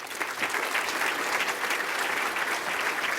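An audience bursts into steady, dense applause for NASA administrator Jim Bridenstine at an Apollo 50th anniversary event, sustained clapping filling the room throughout with no voices over it.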